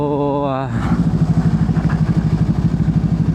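A Hyundai Elantra engine idles unevenly with a cylinder 3 misfire and fresh spark plugs, a close, rhythmic chugging pulse with a regular stumble that takes over after a brief tonal whine at the start.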